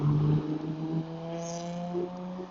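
A passing car with a new muffler on a Long Island street in Babylon, New York, gives a steady low engine drone with tonal exhaust hum, fairly close and continuous for a couple of seconds.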